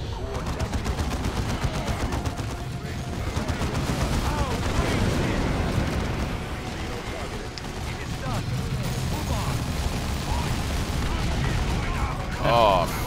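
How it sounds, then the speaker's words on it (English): Frag grenade blasts and rattling gunfire from a Warhammer 40,000: Dawn of War II battle form a dense, continuous wash of combat noise, with voices talking over it throughout. "Oh, frag grenade."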